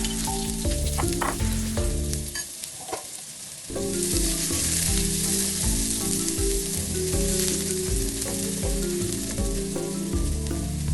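Chopped onion sautés in oil in a pan, just after mustard seeds have popped, while cooking a Kerala-style red cowpea thoran: a steady close sizzle with stirring scrapes and a brief dip before the frying hiss resumes.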